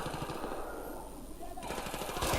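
Bursts of rapid automatic gunfire crackle through the whole stretch in the video game Battlefield 3, fairly loud and steady, with game-style sound effects layered over it.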